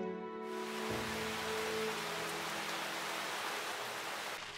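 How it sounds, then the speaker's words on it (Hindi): Heavy rain in a children's animated cartoon falls as a dense, steady hiss of broadband noise that stays constant throughout, with no voices. "बारिश बहुत तेज हो रही है।"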